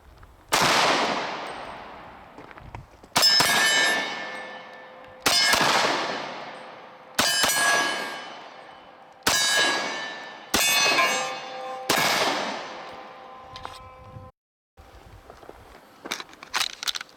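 SIG Sauer P227 pistol with a DPM Systems recoil reduction system fired in six sharp double-tap pairs, loud and close with ringing metallic decay after each pair, then quieter handling noise near the end.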